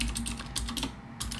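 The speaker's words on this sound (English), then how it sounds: "I'm going to be typing sudo npm install hyphen hyphen save hyphen dev" Someone types an npm install command on a computer keyboard, producing a quick, steady patter of key clicks close to the microphone, with a short lull midway and no talking.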